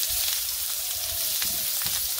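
Vegetables hitting hot oil with cumin seeds in a pan give a steady, loud, close sizzle that runs continuously, with faint stirring or clatter underneath.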